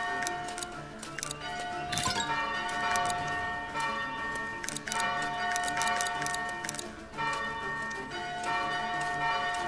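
A church bell tower in the video game Foundation rings steadily and loudly, with overlapping metallic strikes and long ringing tones that fill the whole stretch.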